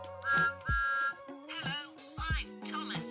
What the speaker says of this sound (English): I can also make my Thomas whistle and talk.